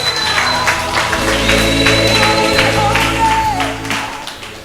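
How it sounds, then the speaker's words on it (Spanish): A church congregation applauds with hands raised over their heads, a steady sustained wash of clapping mixed with background music and scattered voices. "Aplaude entonces sobre tu cabeza"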